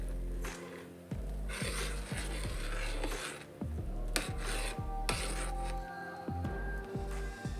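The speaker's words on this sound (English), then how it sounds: "Give that a stir." Spoon stirring an herbal tea mixture in a pot, a repeated rasping scrape with steady rhythmic strokes, close and fairly soft, with no voices.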